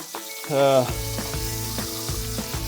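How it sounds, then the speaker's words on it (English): Bacon frying in a skillet gives a steady, soft hiss and crackle under a prominent tonal, musical sound. "our bacon is starting to cook down real good in our skillet, and it's not burning"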